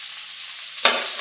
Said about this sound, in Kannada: ಗೋಡಂಬಿ ಇಷ್ಟನ್ನು ಎಣ್ಣೆಯಲ್ಲಿ ಹುರ್ಕೋಬೇಕು